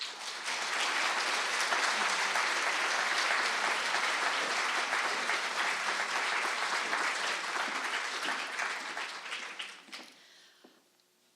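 A large audience applauds warmly to welcome a speaker at a lecture, dense steady clapping for about nine seconds before tapering off to a few final claps.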